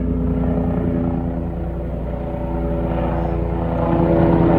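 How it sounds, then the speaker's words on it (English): A propeller airplane passes overhead near a remote fishing spot, a steady, droning engine rumble that stays loud throughout and swells slightly toward the end. "Yep, just doing a flyby."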